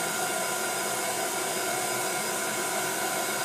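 A hair dryer blowing on wet paint on paper, a constant loud, steady whooshing roar from close by with no voices.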